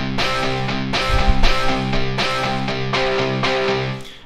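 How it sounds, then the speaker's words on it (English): The Monster Guitar freeware plugin, driven by BlueARP arpeggiators, plays a distorted electric guitar power chord sequence in a steady rhythmic pattern of repeated chord stabs, loud and alone. "It creates this power chord sequence together with these two BlueARPs."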